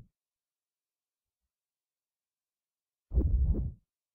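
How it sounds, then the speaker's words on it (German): In the video game Haunting Ground, a single soft, low heartbeat thump arrives after a long stretch of silence. "Kurz warten, bis ihr Herzschlag wieder etwas leiser wird."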